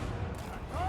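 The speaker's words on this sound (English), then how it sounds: "So the cannons hit that thing so easily." Cannon fire in the naval battle game Dreadfleet, a brief rough burst of booming blasts, with a voice talking over it.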